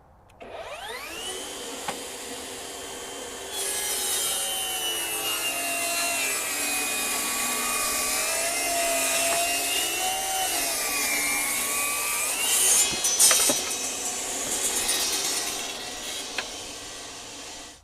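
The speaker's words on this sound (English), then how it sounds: "this is the only 10-inch cordless table saw that will rip a 4x4 in one shot" Flex 24V brushless cordless 10-inch table saw ripping a pressure-treated 4x4, motor winding up to a high whine that shifts pitch under load as the blade cuts through the wood, then spins down, close and steady.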